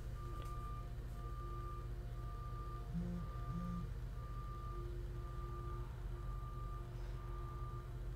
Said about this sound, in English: this video is going to be ruined because of all that beeping.